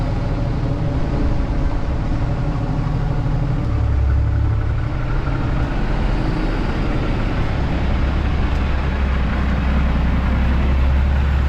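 A heavy truck's engine rumbles low and steady at close range while it is turned around and eased into a bay, with no break in the drone.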